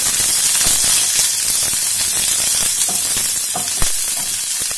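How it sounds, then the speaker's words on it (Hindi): Onion sautéing in a pan with browned garlic gives a loud, steady sizzle with faint stirring scrapes and a crackle or two, close up and uninterrupted. "प्याज को भी 1 मिनट के करीब ऐसे ही थोड़ा सौते कर लेंगे।"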